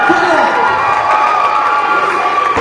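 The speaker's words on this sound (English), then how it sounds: "put your hands together for your winner, Claire." A crowd cheers and shouts for the winner at a women's cage fighting event, a loud continuous roar of voices with whistles and yells and little distinct clapping.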